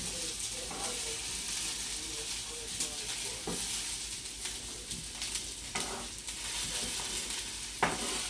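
Steady sizzling and crackling of onions frying in a pan, with occasional stirring scrapes, continuous and close.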